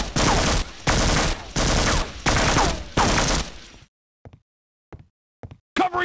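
Half-Life Opposing Force machine-gun fire for cover: long loud bursts in quick succession, then sudden silence broken by a few faint short blips before another burst starts at the end.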